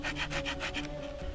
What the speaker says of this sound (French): Vous allez galérer à couper du bois avec.